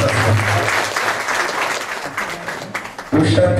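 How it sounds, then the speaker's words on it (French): An audience at a book dedication ceremony breaks into sustained, fairly loud applause for the publisher, a steady crowd clatter lasting a few seconds, with a voice speaking over it as it ends. "qu'on applaudit encore une fois"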